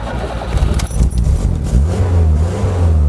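Small car engine revving, a little car being worked on by EV West and SRD, rising and falling in steady loud bursts with some light rattling, no talking.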